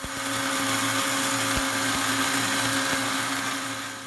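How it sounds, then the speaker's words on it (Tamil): A mixer grinder whirs steadily as it grinds roasted wheat into flour for wheat idiyappam, a close, loud motor drone with a rattling hum and a few faint knocks from the jar. "மிக்சர் கிரைண்டரில் போட்டு அதை மாவு ஆக்குற வரைக்கும் மிக்சர் கிரைண்டரில் அரைக்கப்படும்"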